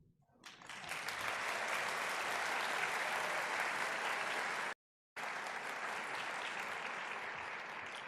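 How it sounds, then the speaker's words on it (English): An audience at an honors college convocation ceremony applauds outstanding first-year students, sustained dense clapping rising quickly and holding steady with a brief cut partway through, no talking over it. "And we can clap for them."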